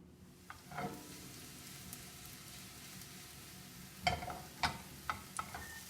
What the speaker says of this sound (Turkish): Ayrı bir tavaya çok az bir sıvı yağ koyup şimdi köftelerimi de çok hafif kızartacağım.